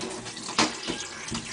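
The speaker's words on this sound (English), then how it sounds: "you only ever need to wash it with water" Tap water running over a Bialetti stovetop coffee maker as it is rinsed in a sink, a steady close splashing stream with a few louder gushes and clatters as the pot shifts under the flow.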